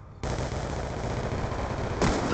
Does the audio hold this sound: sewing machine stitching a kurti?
no